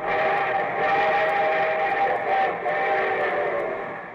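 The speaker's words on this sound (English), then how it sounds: "And here comes our star-studded show train." A steady, loud train whistle sounds continuously for several seconds over a rumbling rail background, holding a constant chord before easing off slightly at the end; a radio show sound effect.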